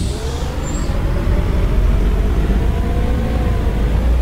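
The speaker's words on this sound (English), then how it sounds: "How does the bus sound to you guys?" Steady, loud bus engine drone in the OMSI 2 bus simulator game, a low idling rumble running continuously with a brief high hiss near the start like an air brake release.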